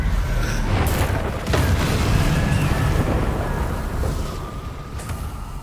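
Incendio fire spell cast during combat in the video game Hogwarts Legacy, a loud rumbling burst of flame with deep booming roar and crackling texture, sustained throughout amid battle noise.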